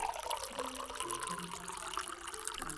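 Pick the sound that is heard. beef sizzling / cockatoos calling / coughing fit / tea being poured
tea being poured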